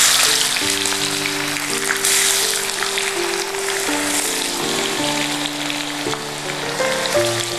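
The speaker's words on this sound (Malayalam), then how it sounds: "2 വലിയ സവാള അതിടാൻ പോവാണ്." Two large onions, thinly sliced lengthwise, hit smoking-hot oil and set off a loud, steady, crackling sizzle that runs throughout, with a tonal melody playing underneath.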